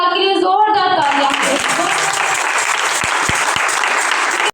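Loud applause from a church congregation during a Hindi-Urdu Christian sermon, dense steady clapping filling the space after a brief opening voice.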